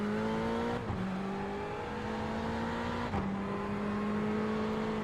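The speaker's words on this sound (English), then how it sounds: "Listen to the car." In-car sound of a race car at Interlagos, with the engine holding a strained, steady tone that dips sharply twice in quick gear shifts before climbing again, loud and close with no talk.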